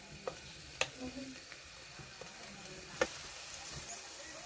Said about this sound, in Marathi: आता आपण हे दही मसाले मिक्स केले ना ते टाकून देऊ